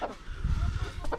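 A pet farm rooster gives a short burst of low, throaty clucks close by, a quick cluster of guttural notes lasting about a second.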